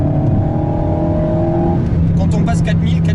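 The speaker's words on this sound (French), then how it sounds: "on a une sorte de bruit d'admission qui a été retravaillé, je pense." Alpine A110 S at high revs, its reworked intake note rising as a loud engine drone with a whirring tone that climbs and then shifts, fluttering bursts toward the end.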